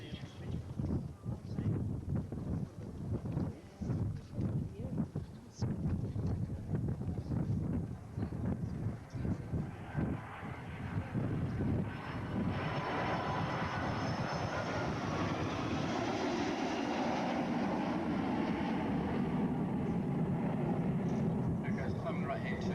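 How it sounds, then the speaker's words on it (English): An RNZAF Boeing 757 jet makes a low approach with gear down and flaps extended at the Warbirds Over Wanaka airshow, then powers up to overshoot, a distant rumble growing into a loud, steady jet roar, with a commentator talking early on. "the aircraft's now coming in for a low approach and overshoot in the landing configuration"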